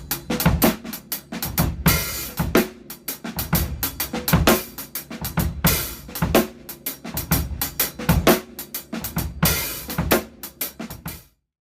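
Drum set playing a halftime shuffle groove built from two combined rhythms, with busy hi-hat and accented snare hits over kick, looping in a steady repeating pattern for over ten seconds before stopping abruptly.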